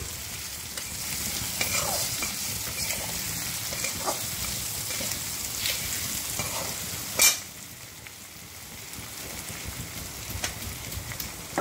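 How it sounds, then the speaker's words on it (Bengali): Food sizzling steadily in a pan after salt goes in, a continuous close crackle with small stirring scrapes and one brief louder clatter partway through. "ভাজা হতে থাকে।"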